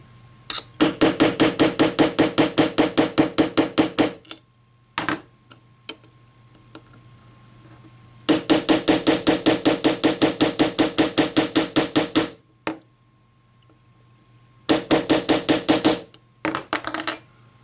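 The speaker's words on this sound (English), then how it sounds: "take your 1/8 inch punch, go ahead and just get it started" A punch is hammered against a roll pin in a Kel-Tec RDB trigger: three separate bursts of quick, sharp metallic taps, each a steady rapid rhythm, close and loud, with short pauses and a few stray clicks between them.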